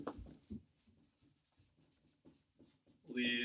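Hand writing during an organic chemistry lecture on lithium aluminum hydride reductions: faint scratchy strokes come in short bursts, and a voice speaks at the end.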